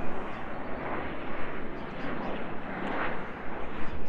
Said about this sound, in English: Excuse the plane noise.